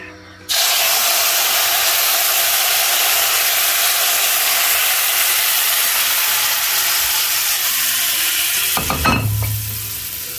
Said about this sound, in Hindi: अब हम इसमें डालेंगे चाशनी